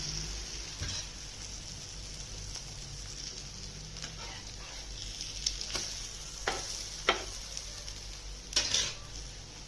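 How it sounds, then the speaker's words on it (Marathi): Colocasia leaf rolls shallow-fried in a little oil on a tawa give a steady, soft sizzle, with a few brief clicks and scrapes from flipping the rolls breaking through. "अशा प्रकारे सर्व आळूचे पानं आपल्याला तव्यावरती टाकून घ्यायचे आणि शेकून घ्यायचे."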